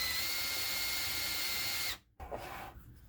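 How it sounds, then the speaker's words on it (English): A power drill drilling down into wood during a telescope restoration whines steadily at high speed, loud and close, then cuts off abruptly, followed by brief rustling and a quieter restart. "I'm just going to put it right here and just drill straight down"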